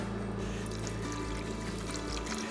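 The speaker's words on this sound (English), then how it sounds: "Now we'll pour in the rest of our stock" Stock being poured into a pot of paprika chicken while cooking in the countryside, a steady continuous pour with liquid splashing that runs for the full stretch and is heard alone with no talk.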